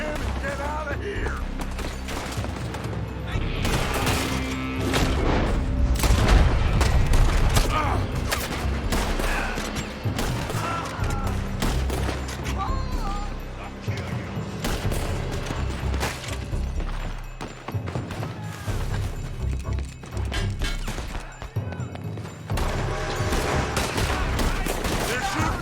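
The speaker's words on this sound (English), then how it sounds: "They're shooting from that building!" Gunfire erupts from a building in Red Dead Redemption 2, dense volleys of rifle and pistol shots cracking over one another with booms and clatter, loud and continuous under faint voices.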